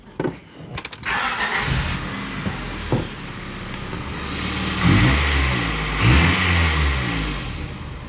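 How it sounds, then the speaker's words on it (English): Exhaust of a 1989 Honda Prelude after re-welding at a muffler shop: the engine starts, then idles with a steady rumble and rises in two loud revs, close by, with no talk. "let's hear this exhaust"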